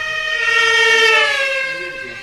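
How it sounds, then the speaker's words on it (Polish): Emergency vehicle siren switched on during a stage play, a loud, close, rising and falling electronic wail sweeping through a single cycle, with no talk over it. "syrena włączona"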